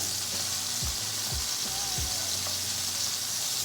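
Tomatoes sizzling in a hot pan, a loud, dense, continuous frying hiss heard up close with a few soft bumps and knocks in the background, no talking.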